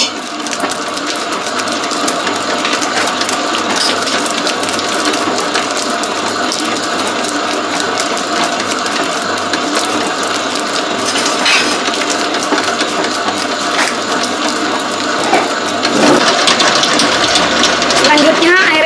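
A GOMESIN bread dough mixer machine runs steadily at close range, its motor and gears making a dense, continuous mechanical churn with clicking, grinding texture, slightly louder near the end.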